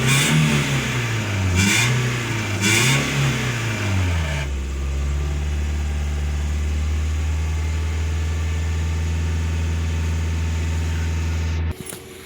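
Toyota Vios second-generation engine revving hard with rising and falling pitch for about four seconds, then settling into a steady high-rpm drone that cuts off abruptly near the end, recorded close with no talking.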